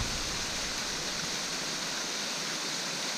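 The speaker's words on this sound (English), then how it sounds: "there's a really nice waterfall here" Waterfall beside a hiking trail in Oil Creek State Park, a steady, even hiss of falling water that fills the whole stretch without pause, fairly faint and heard alone with no talk.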